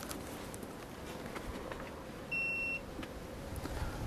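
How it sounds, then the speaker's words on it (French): A single short electronic beep from a beehive scale unit sounds clearly over a steady low background hum, lasting about half a second. "ça va émettre un bip"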